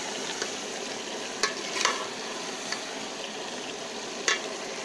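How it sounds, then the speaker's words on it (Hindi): Potato and radish pod curry with chopped coriander being mixed in a pan, a constant soft sizzle with a few sharp spoon clinks and scrapes scattered through it. "हम इसे एक दफ़ा मिक्स करके सिलेंडर को बंद कर दूँ।"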